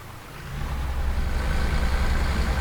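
Steady low drone of a Mercedes truck engine in Euro Truck Simulator 2, quiet and even, swelling slightly at the start and then holding constant, heard from the cab with no voices.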